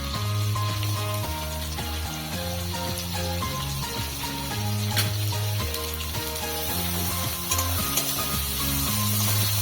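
Chopped onion frying in a pan, a continuous close sizzle with stirring, under a steady musical background.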